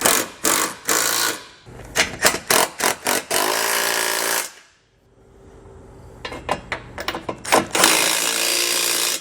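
A ratchet wrench snugs down the bolts of a Curt trailer hitch receiver on a 2017 Cadillac CTS. Loud, close bursts of clicking come in quick repeated strokes, pause briefly, then resume.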